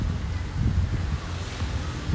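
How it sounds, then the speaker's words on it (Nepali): Strong, gusty wind roars across an outdoor spot ahead of rain, buffeting the microphone with a dense, rumbling rush that swells and eases. "हावा हुरी लागेर कस्तो भइरह"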